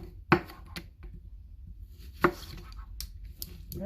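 Onions are cut into big chunks on a board: two sharp knife chops land about two seconds apart, with a few lighter taps between them in an otherwise quiet kitchen.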